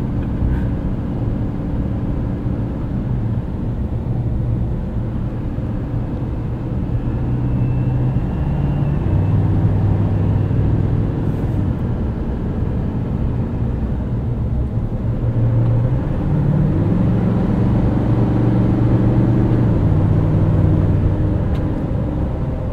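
A 2024 Chevrolet Silverado 2500HD ZR2 with a Duramax diesel engine accelerates while towing. A steady, deep engine rumble is heard from inside the cab, rising and settling through gear shifts, with no talk.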